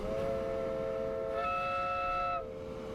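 A train whistle in the Transport Fever 2 game sounds as a sustained multi-tone chord that shifts pitch midway, holds, and then cuts off, clear over faint background rumble with no voices.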